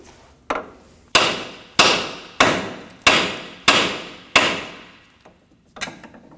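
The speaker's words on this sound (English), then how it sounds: "We'll strike the end of the knuckle with a hammer right here to release the outer tie rod." A hammer strikes the end of the steering knuckle on a 1993-2001 Subaru Impreza to free the outer tie rod, seven loud metallic blows at a steady pace, each ringing briefly, then a couple of lighter taps.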